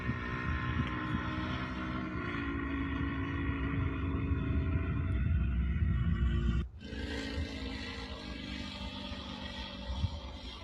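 A radio-controlled three-channel model biplane drones overhead with a steady buzzing motor whine, fading and shifting as it passes, amid outdoor wind noise at a flying field.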